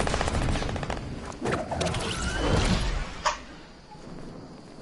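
Loud automatic gunfire in a PS4 video game, sustained rapid shots at first, then isolated sharp cracks fading toward a quieter tail.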